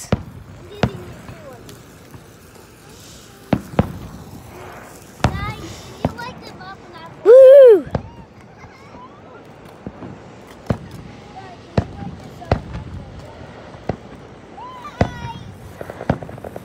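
Sharp pops and bangs of fireworks go off irregularly, one after another, with a short squealing whistle and people talking and cheering between the blasts.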